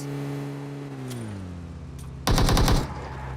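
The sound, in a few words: gunfire in a video game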